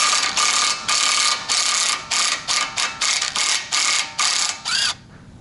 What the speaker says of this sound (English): Next up, just got to get the nut off the end.